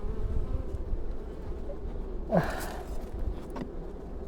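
A faint, continuous buzzing of Carniolan honeybees after wintering hums in the background, with a brief louder rush of sound midway, no talking.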